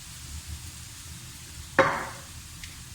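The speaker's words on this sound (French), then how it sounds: "je vais démarrer par la sauce soja qui va m'amener le plus d'éléments liquides, histoire de commencer à déglacer tout simplement ma préparation" Soy sauce hits a sizzling stir-fry of chicken and rice noodles, making a sudden loud hiss that flares up then fades over about a second. A faint second splash comes later, and no one speaks.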